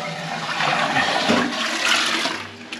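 Water rushes into a toilet cistern being refilled after its float-type ball valve has been wound up and adjusted, a loud steady gush and trickle that eases slightly toward the end.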